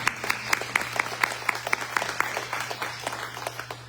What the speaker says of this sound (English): Can we get a round of applause for everybody?